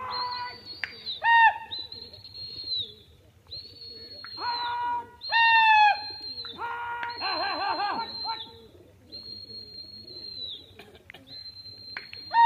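Pigeons at a Pakistani high-flying pigeon tournament (Lambi Patti race) give repeated calls and coos in bursts over a low steady background hum, with no talk.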